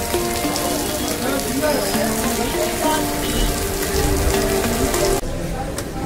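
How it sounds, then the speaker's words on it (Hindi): Heavy rain pours down in a dense, steady hiss, with faint murmuring sounds buried underneath. "बाहर बारिश लगी हुई है बहुत देखिए दबा के खूब बारिश हो रही है"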